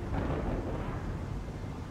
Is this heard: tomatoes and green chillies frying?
no